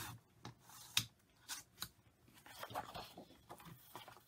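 Scissors cut paper into a five-by-ten pocket for a six-pocket file folder, giving a few sharp snips and crisp paper rustles close up, with soft handling noise between cuts.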